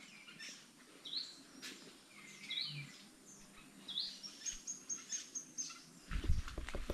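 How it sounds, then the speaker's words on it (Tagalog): A rescued bird kept in a cage gives short, faint chirps and tweets scattered over a quiet background, followed near the end by a few soft taps. "Ang gandang ibon."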